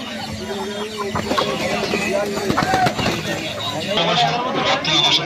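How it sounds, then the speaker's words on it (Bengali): Chickens cluck among a busy crowd at a village market in the Sundarbans, with ducks also for sale; the clucking is steady, close and moderately loud, blending with nearby voices talking and general market bustle. "আজকে দেখো অনেক মুরগি এসেছে দেখো"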